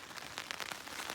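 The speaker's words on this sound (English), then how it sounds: "Alright, so it's raining out there." Steady rain falls outside around a campsite, a continuous soft patter and hiss with no voices.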